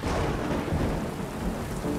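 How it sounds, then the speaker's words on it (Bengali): Torrential rain pours down steadily, with dense, loud hiss and patter. Thunder rumbles low beneath it, and no voices are heard. "ততক্ষণে মুষলধারে বৃষ্টি শুরু হয়ে গেছে।"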